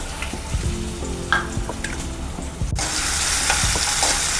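Garlic and green chillies sizzling in hot oil with cumin seeds in a pan, a steady close frying crackle that swells louder midway as more hiss builds, with a few light stirring clinks and no talking.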